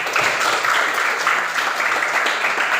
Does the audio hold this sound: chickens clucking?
no